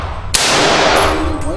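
A single sharp gunshot from a Smith & Wesson AR-15 rifle, loud and close, with a ringing metallic tail that decays over the following second.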